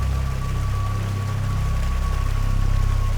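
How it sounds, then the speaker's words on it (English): Steady broadband rushing of a forest river flowing, continuous and fairly close, with a faint steady tone running through it and no voices. "The sound of a forest river."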